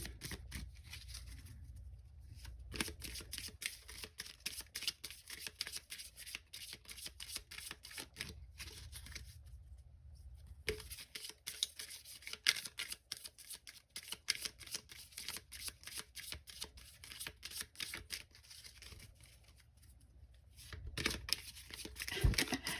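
Playing cards are shuffled again and again, crisp rapid riffles and flutters close by, with short pauses between the bursts.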